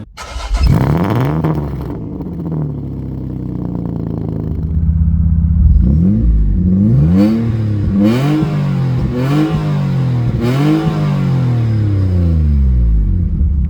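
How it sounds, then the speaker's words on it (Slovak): A Peugeot 406 3.0 V6 engine revs repeatedly, rising and falling in pitch with a deep exhaust rumble, several rhythmic throttle blips in close succession, loud and near. "ten 3 liter V6 naozaj veľmi pekne spieva"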